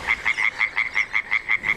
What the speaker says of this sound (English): the tree frog is one of those relatively sensitive species